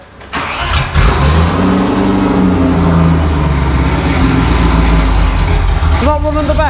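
A Range Rover Classic V8 running with no exhaust fitted, a loud, raw, uneven idle that rises and settles in pitch, close by and continuous, ending with a brief blip of revs.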